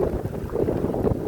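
Strong gusty wind ahead of a summer storm buffets the microphone on an open road in Laos, producing a rumbling, uneven roar with pulsing surges.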